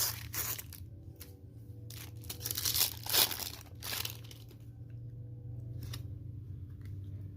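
Paper wrapping on a Disney Lorcana Moana and Mickey Mouse starter deck is torn open up close, giving repeated crinkling, ripping bursts, with one louder tear in the middle and no talking.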